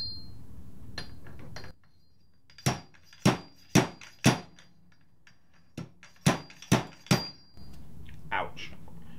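A metal washer is tapped with a hammer to drive a fork seal down on a Suzuki GSX-R motorcycle fork, giving eight sharp metallic strikes in two quick bursts of four, close and loud in a quiet workshop.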